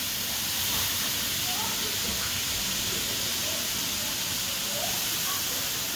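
Squash sizzles in a hot kahari with a loud, steady, hissing fry that fills the whole moment without a break, and a voice is faintly audible under it.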